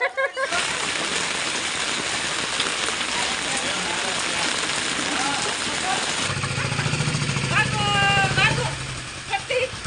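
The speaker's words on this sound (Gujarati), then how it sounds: "વરસાદ વધી ગયો ભાઈ" Heavy rain drums steadily on a surface, with an engine idling underneath and brief voices breaking through near the end.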